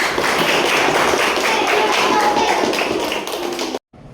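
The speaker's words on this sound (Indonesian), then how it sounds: "Beri tepuk tangan untuk kita semua." Children in a classroom clap their hands together in dense, continuous applause up close, with some chatter underneath, before stopping abruptly.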